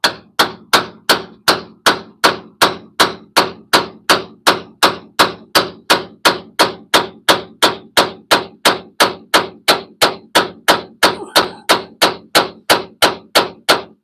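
A hammer strikes a pickle fork wedged into a stubborn vehicle joint in a home garage, about thirty sharp metallic blows in a steady, evenly spaced rhythm, loud and close, with no talk.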